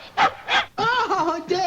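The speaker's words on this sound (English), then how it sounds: "Oh, she's a wonderful dog." A dog gives two short barks, followed by a voiced, whimpering vocalization, close and clear, in an old 1940s film recording.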